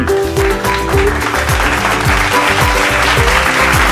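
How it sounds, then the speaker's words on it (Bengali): Applause in a cartoon wedding scene set in winter, steady clapping from a crowd over musical backing that fills the whole stretch at an even, fairly loud level. "এই তো সবাই হাততালি দাও, বিয়ে হয়ে গেছে"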